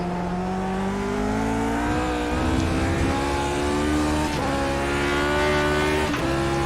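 A race car engine in the iRacing sim, Grand Prix Legends class at Donington, loud and close, revving hard up through very short gears with quick pitch climbs and sharp shift drops.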